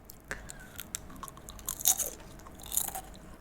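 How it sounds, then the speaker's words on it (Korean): Someone bites and chews crunchy crisps made from square slices of cheddar cheese, cut into pieces and microwaved until crisp. Close, irregular crackling crunches come one after another, with no talking. "바삭바삭한 이 소리가 들리는 요것은 치즈 과자인데요"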